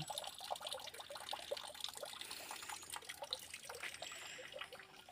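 Water trickles and splashes steadily throughout, a bright, busy running sound close by with no voices.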